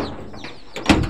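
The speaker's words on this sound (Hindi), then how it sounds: "दरवाजा खोलिए।" A door of a village house is opened, giving a brief, close creak-and-knock near the end of a short, quiet moment without talk.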